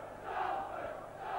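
Salford rugby league fans in a stadium for a 1999 match against Leeds Rhinos send up a broad wash of crowd noise and applause, steady and distant, swelling slightly across a brief stretch.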